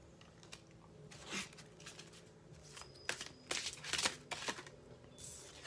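Oracle cards shuffled by hand, one card jumping out of the deck, heard as quiet, close bursts of papery riffling and flicking with brief pauses, over a faint low hum.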